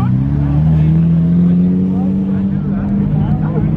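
A Lamborghini Diablo SV supercar pulling away on a road, its loud deep engine drone rising steadily in pitch close by, with someone speaking over it.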